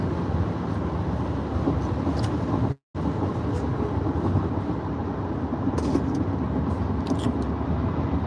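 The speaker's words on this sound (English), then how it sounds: "Friday traffic on the 405, ladies and gentlemen." Friday freeway traffic on the 405 heard from inside a car, a dense continuous rumble of road and engine noise with faint higher whooshes of passing vehicles and one brief dropout.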